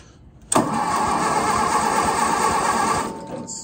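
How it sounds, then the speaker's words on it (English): Small engine of a Case VAI tractor revs hard with the throttle opened, a loud steady roar kicking in abruptly after a brief quiet moment and holding for about two and a half seconds before dropping off. "Let's open her up a little bit. That's definitely way too much for this little motor."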